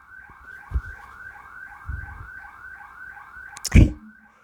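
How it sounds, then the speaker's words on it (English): A car alarm sounds with a steady repeating electronic warble cycling evenly throughout, moderately loud but from some distance, with a few dull thumps and a sharp knock near the end. "This alarm is ringing."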